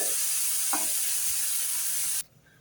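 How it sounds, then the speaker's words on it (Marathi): Cauliflower and tomato sabzi steams in a pan over medium heat, giving a steady soft hiss and sizzle, with a few faint scrapes of stirring, close up and then suddenly quieter. "आपण भाजीची आता वाफ काढू आणि हलवून देऊ बरं का"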